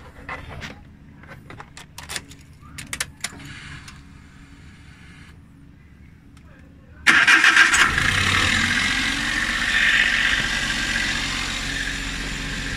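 A Suzuki Every Wagon with a K6A engine, newly fitted with a replacement turbo, cranks and catches. It settles into a loud, steady idle that follows quieter clicks and handling noises.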